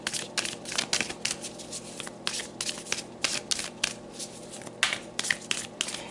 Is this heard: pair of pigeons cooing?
no